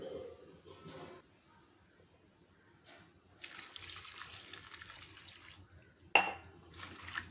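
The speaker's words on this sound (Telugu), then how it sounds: "ఇప్పుడు ఇందులో తగినన్ని వాటర్ అయితే పోసి పొయ్యి మీద పెట్టుకుందాం" Water is poured into a pot of mixed broad bean (flat bean) curry in a home kitchen. A few seconds of soft, steady splashing are followed by a sharp clink of the vessel, then another brief pour, all fairly faint.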